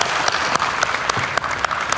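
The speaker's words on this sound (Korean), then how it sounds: "다시 한번 큰 박수 부탁드리겠습니다" Dense, steady audience applause fills a press-conference room for President Moon Jae-in after his question-and-answer session on returning from North Korea, loud and continuous with sharp claps throughout.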